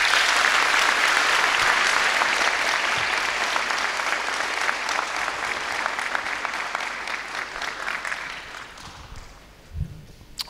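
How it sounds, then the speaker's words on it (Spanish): Dense, loud applause from an audience at a Pentecostal church debate fills the room, gradually thinning and fading out toward the end, followed by a brief low thump. "Recibámoslos con fuerte aplauso"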